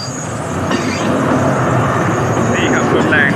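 Alsthom diesel locomotive 4131 on Thai freight service 817 (Bang Sue–Mae Nam), running alone without wagons beside the Rama 4 expressway, passes with a loud, steady rumble as someone talks over it.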